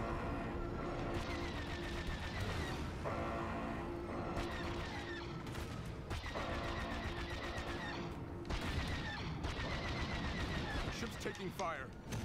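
Continuous blaster fire and explosions in the Star Wars Battlefront II video game, dense rapid bursts layered over game music and effects, with players talking over the action.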